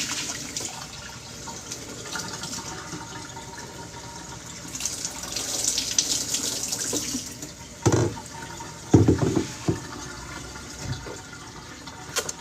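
A kitchen tap runs steadily while a parent washes something, with a few louder splashes and clatters partway through, no talking over it.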